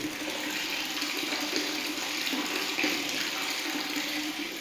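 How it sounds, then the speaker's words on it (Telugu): Steady rushing water pours and splashes continuously into a large underground sump, a constant broadband flow with no pauses. "ఇక్కడైతే సంపులో చూడండి వాటర్ వస్తుంది"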